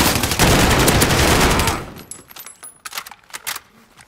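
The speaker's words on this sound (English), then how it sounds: "Enemy fire over here!" Heavy burst of automatic gunfire in a shooter game, loud and sustained for about two seconds before cutting off, followed by sparser scattered shots and metallic clinks at lower level.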